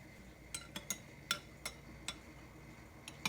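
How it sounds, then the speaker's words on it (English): A spoon stirring milk and white vinegar in a cup, with light, quiet clinks against the sides at an irregular rhythm over soft background noise. "Give it a little mix."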